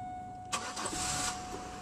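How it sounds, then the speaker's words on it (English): A car engine catches and revs while in park: a quiet steady hum, then a sudden burst as the engine fires, a roughly second-long rise in rumble, and a settle back toward idle. "Let's rev the engine."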